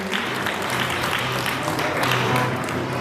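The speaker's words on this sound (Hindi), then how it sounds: "और आपने तालियां तो बजाई है मेरे सम्मान में" A hall audience at an annual festival in Gurgaon claps in a loud, dense, sustained burst of applause that holds steady for several seconds, close and full, with no speech over it.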